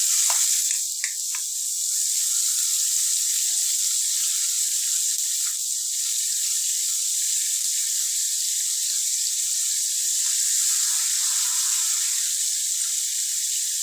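Raw mango pieces sizzle steadily in a hot pan, a constant bright frying hiss that stays close and even throughout, with a few light stirring scrapes near the start and no voices.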